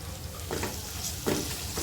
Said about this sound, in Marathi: कांदा छान आपल्याला गुलाबी रंगावर परतून घ्यायचा आहे मी चार पाच कढीपत्त्याची पानं घेतली ती टाकते